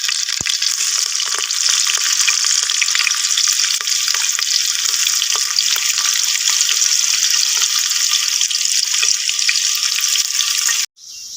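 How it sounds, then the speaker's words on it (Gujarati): Onions and green chillies sizzle loudly in hot oil in a pan for khichdi, a dense, continuous frying hiss with faint stirring clicks, close up and without talk, cutting off abruptly near the end. "હવે એમાં ડુંગળી નાખીએ થોડી"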